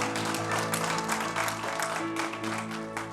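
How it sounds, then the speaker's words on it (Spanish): A church congregation applauds the Lord during a Spanish-language service, with loud, dense clapping that runs throughout and tonal sounds underneath. "Denle ese aplauso fuerte al Señor, porque Él es bueno"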